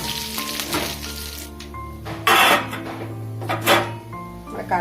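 Curry leaves dropped into hot oil with nearly browned onions, cooking for a dried fish curry, give a close, moderate sizzle with bursts of louder crackling midway and toward the end, over a low steady hum.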